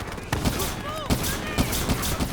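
Suppressing gunfire rattles in bursts through a Call of Duty Black Ops 3 battle scene, sharp repeated shots at intervals over a dense roar of combat noise.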